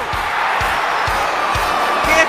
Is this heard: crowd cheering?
yes